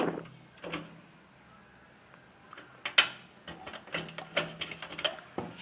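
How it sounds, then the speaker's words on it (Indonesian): Small ticks, clicks and scrapes from metal bolts being screwed in while assembling a desktop PC near the power supply, sparse and irregular up close with a few sharper taps. "Kita baut dulu sebentar."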